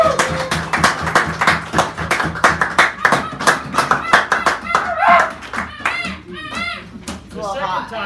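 A small poetry-hour audience in a San Francisco café claps for a first-time reader, a sparse scatter of distinct nearby hand claps that thins out while voices talk over it.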